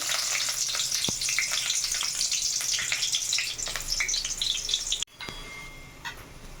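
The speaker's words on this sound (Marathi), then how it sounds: "तेल गरम झालेलं आहे. आता हा कांदा सोडून घेते." Onion hits hot oil in a pan for mutton curry, a loud, dense sizzle with crackling pops, continuous and close, then it drops abruptly to a quieter, steady frying hiss.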